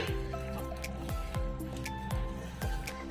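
Wet, squishy squelches come as vermicelli pakoda batter is mixed by hand, in a steady rhythm of soft sticky presses and drips, fairly close and quiet, with no talk over it.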